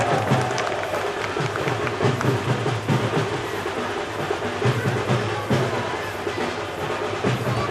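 An audience at a festival inauguration in Pipili, Odisha, keeps up a steady wash of crowd noise and clapping, dense and continuous throughout, with ululation blending into the din.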